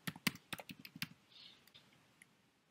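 Computer keyboard keys clatter in a quick burst of close, crisp taps for about a second, then a few scattered softer clicks trail off into quiet.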